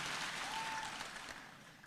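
A cathedral congregation applauding, a steady crowd clapping that fills the whole short stretch at moderate loudness, fading slightly toward the end with no voices over it.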